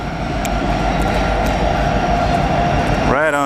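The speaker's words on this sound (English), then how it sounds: "here's a freight coming up" A CN freight train rolls past at close range beside a Montreal mural, a loud, steady rumble and rail roar that fills the whole stretch, with a voice rising over it at the very end.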